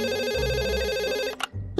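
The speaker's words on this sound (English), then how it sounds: "What in the world took you so long to answer the phone" A cartoon telephone rings loudly and steadily with a bright electronic trill for over a second, then cuts off sharply before a short thump and a brief trailing tone.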